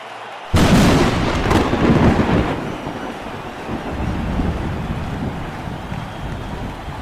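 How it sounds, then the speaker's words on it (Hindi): Rain in a cricket video game bursts in suddenly with a loud rumbling roar, then settles into a steady, softer wash of rainfall and wind. "काले बादल मंडरा रहे हैं, बारिश आ सकती है। जी आ ही गई।"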